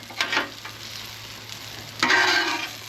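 Meatballs sizzle on a Blackstone griddle outdoors while a utensil stirs and scrapes them, soft frying hiss underneath with two brighter bursts of scraping, the second longer and louder.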